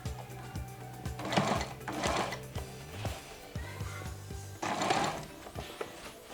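A sewing machine top stitches a notched shirt collar in short bursts of running stitches separated by brief pauses, close and moderately loud, with no talking.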